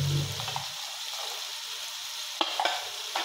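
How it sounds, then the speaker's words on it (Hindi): Vegetables with tomatoes and green chillies frying in a pot for vegetable pulao, a steady soft sizzle with a few stirring scrapes and clinks, close and alone. "अब थोड़ी देर बुनाई करते हैं।"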